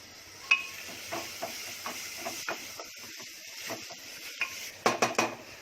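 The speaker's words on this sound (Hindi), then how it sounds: "ये देखो तेल गरम हो गया। अब इसमें डालूंगी अपने ये 2 मीडियम साइज के प्याज है" Hot oil sizzles steadily in a pan with two medium onions frying while a utensil stirs and clinks against the metal now and then, with a few sharper clatters near the end.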